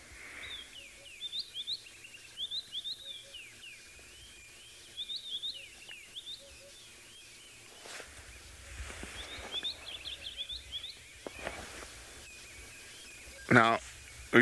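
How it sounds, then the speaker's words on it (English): Assorted birds calling at the edge of the Mawati River, with repeated bright chirping phrases in short bursts over quiet background, a few louder knocks and rustles, and faint insect sounds. "we've been listening to the bird sounds all morning"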